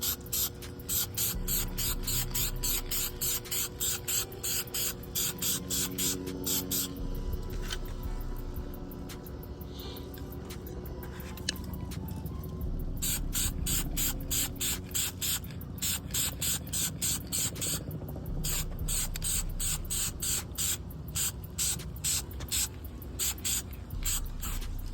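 Spray coating applied to the front bumper of a 2012 Chrysler 300 Hemi, a steady aerosol hiss running throughout with repeated rapid clicking pulses of the nozzle and short pauses between passes.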